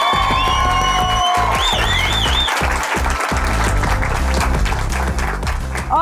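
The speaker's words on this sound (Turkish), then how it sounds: "Bir alkış, kocaman bir alkış veriyorum." A TV talk show studio audience applauding loudly and continuously, dense clapping with some cheers and whoops, under a fading music sting.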